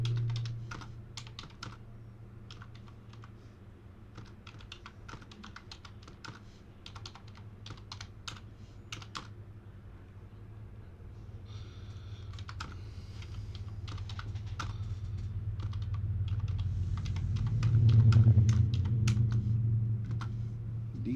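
Rapid typing on a computer keyboard, irregular bursts of close key clicks over a steady low hum, with a louder rumble swelling near the end.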